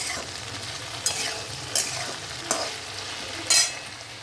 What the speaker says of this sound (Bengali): আমি দেখো ভেন্ডির চচ্চড়ি বসিয়েছি